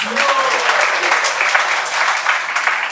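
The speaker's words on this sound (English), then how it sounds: "Please give a round of applause to Prabhuji." Panel audience at a yatra gathering applauds Prabhuji, loud, dense clapping holding steady for the whole stretch, with a short voice briefly audible at the start.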